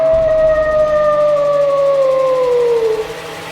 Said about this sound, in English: a faint howl is heard in the distance.